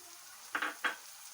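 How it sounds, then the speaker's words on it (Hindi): Tomato paste hits a frying pan for handi kabab, producing two short, close sizzling bursts in quick succession against a quiet background. "अब इसमें हम ये टमाटो पेस्ट ऐड करेंगे"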